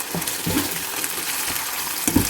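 Red curry paste being stir-fried with coconut milk for Thai prawn curry, with a steady sizzle and intermittent scraping stirs close by, no talking.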